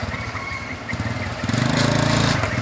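A Yamaha Sirius motorcycle engine after starting, with an uneven, putting idle at first that steadies and grows louder into a fast, regular running rhythm close by.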